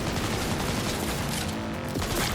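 Rapid gunfire from the video game Cyberpunk 2077 rattles in a steady, moderately loud burst over a couple of seconds, with a dense wash of combat noise and no speech.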